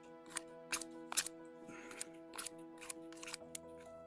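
Scissors snip earthworms into small pieces for carp bait, a string of about ten sharp, close, crisp cuts at an irregular pace over a faint hum.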